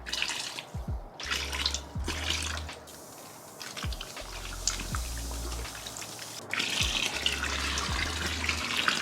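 Tap water runs and splashes while locs are rinsed during a detox, a close, continuous flow with gurgles and dripping that thins briefly midway before surging again, with no one talking.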